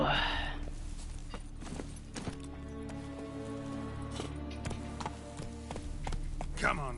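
Horse hooves clip-clopping at a walk in the video game The Witcher 3: Wild Hunt, steady rhythmic steps over game ambience and music, with someone speaking briefly.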